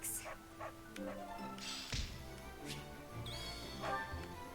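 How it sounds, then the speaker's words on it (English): A dog barks repeatedly in the video game Fire Emblem: Three Houses, short yaps and yips scattered across the clip amid taps, thuds and background game music. "Ugh, stop barking, will ya?"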